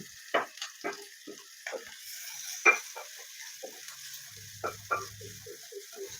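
Onions, green chillies and grated coconut sautéed in a pan, with scattered spatula scrapes and stirs over a faint sizzle and a brief low hum midway.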